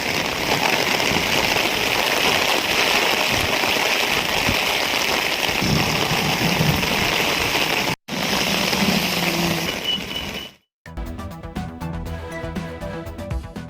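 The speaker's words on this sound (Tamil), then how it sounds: "காஞ்சிபுரம் மற்றும் அதன் சுற்றுவட்டார பகுதிகளிலும் கனமழை பெய்தது." Heavy rain pours steadily over Kanchipuram and the surrounding area, a dense continuous hiss with a faint engine idling underneath, cut by a brief dropout before switching to music at the end.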